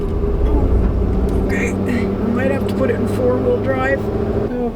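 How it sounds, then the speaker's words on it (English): Steady highway traffic rumbles from a distance beneath a person talking close by in a stopped RV or van, forming a constant low drone throughout. "you can really hear the highway"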